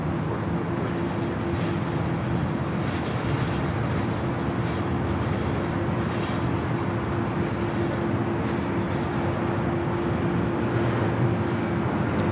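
Steady, loud broadband roar of a Boeing 757 airliner built in 1999, once flown by TWA and American, arriving at LAX on a flight from Boston. The rumble stays constant for the whole stretch with a faint hum over it and no voices.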